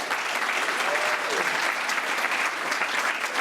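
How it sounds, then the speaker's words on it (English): Dinner gala audience at a Black and White Denim & Diamonds charity event applauding sponsors, a steady, moderately faint wash of clapping throughout with a few voices blended in. "please join me in giving them a round of applause"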